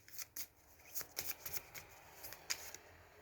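Oracle cards are shuffled close up, giving a quick series of crisp riffling and slapping bursts with brief pauses between them, and no voice over the sound.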